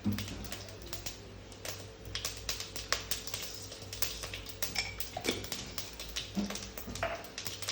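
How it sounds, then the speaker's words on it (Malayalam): Mustard seeds popping and crackling in hot oil in a pan for a Kerala moru curry, a dense run of quick sharp pops and ticks over a steady low hum, close and fairly busy. "കടുക് പൊട്ടി കഴിഞ്ഞാൽ ഉലുവട്ട് കൊടുക്കാം"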